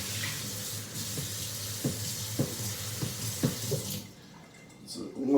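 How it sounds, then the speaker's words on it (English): An automatic sink tap runs water to rinse a Helimix drink shaker, a steady hiss of spray with clunks of the plastic shaker being handled under it, then the flow cuts off near the end. "It's one of those automatic sinks."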